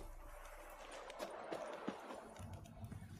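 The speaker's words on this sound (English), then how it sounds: "Whoa there, Roach" Hooves of a horse clopping on the ground in The Witcher 3 video game, a steady rhythm of moderate-loudness thuds with a brief spoken line in the game over ambient background.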